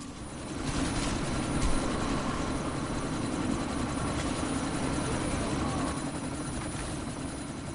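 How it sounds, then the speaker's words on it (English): Helicopter in the Deus Ex video game, a steady, loud rotor and engine roar that holds constant throughout with no speech over it. "you need to disable that chopper"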